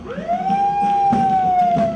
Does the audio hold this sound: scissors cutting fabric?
no